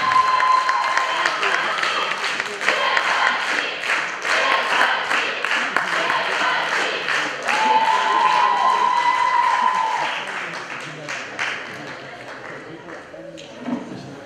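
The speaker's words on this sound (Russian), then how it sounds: "пока все команды могут выйти на сцену, аплодисменты." An audience claps as teams come on stage at a university dean's cup event, the applause broad and lively at first, thinning to scattered claps toward the end, with voices and some cheering in the mix.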